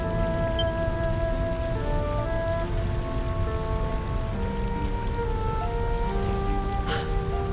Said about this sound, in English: The drought breaks. Rain falls.